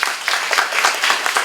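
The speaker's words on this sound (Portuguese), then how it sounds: "uma salva de palmas para todas." A brief burst of audience applause for teachers at an event, many hands clapping together in a dense, continuous patter at moderate distance.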